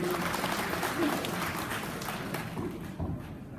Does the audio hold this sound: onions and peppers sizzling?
no